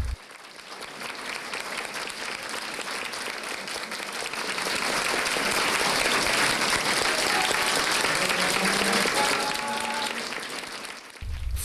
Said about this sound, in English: received his commendation to the sound of applause from university students and faculty members